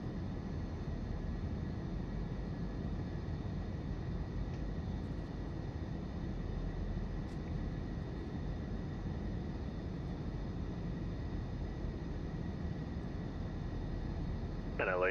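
Airbus A319 airliner in a flight simulator accelerating for takeoff, a steady loud engine roar with broadband hiss held level throughout, a faint rising whine near the end.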